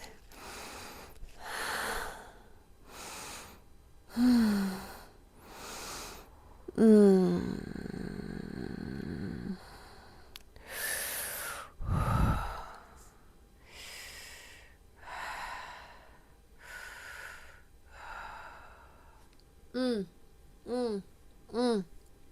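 Slow, deep breaths accompany pulling and twisting of the hair: repeated long inhales and exhales with occasional snort-like sniffs, heard close and at moderate volume, with a voice speaking between some breaths.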